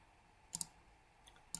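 A few crisp computer mouse clicks in quiet surroundings: a quick double click, a faint tap, then one more sharp click, close and brief, with no talking.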